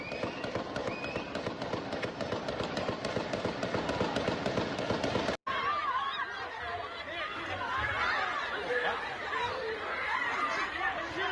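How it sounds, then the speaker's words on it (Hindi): Indiscriminate gunfire during a shooting in the United States rattles off as rapid, sharp cracks in dense succession, then gives way to agitated crowd voices and commotion. "तो अंधाधुंध फायरिंग होती है और उसके बाद कैसे अफरा तफरी मचती है"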